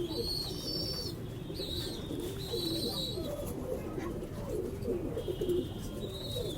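Red-eyed pigeons coo low and continuously at close range, with brief high bird chirps breaking in now and then.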